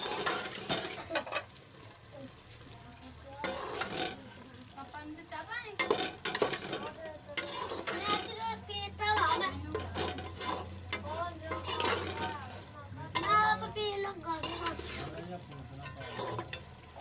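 Spiced keema with garam masala, dried coriander powder, black pepper and cumin fries in ghee in a pan, with a steady sizzle and repeated scraping and clanking of a utensil stirring against the metal, loud and close throughout.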